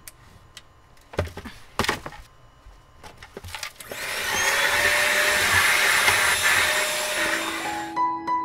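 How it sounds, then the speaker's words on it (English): Some knocks and thumps, then a vacuum cleaner switches on and runs with a steady, loud whine for several seconds before winding down, cleaning a junkyard car's interior. "I'm gonna vacuum it, clean it."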